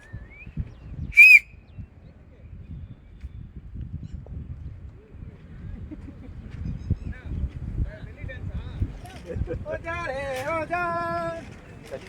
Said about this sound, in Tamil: விசில் அடிப்பீங்க யாராச்சும்?